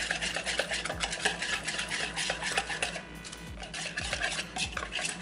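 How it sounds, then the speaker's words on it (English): Protein pancake batter being whisked in a bowl, a steady close scraping and clinking of the whisk against the bowl that runs continuously with quick rhythmic strokes. "Whisk it real good. Get all the clumps out and everything."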